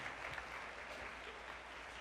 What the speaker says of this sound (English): Keep clapping until he gets to that sacred space.